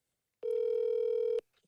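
A telephone rings once during a phone call, a single steady electronic tone lasting about a second, loud and close, followed by silence.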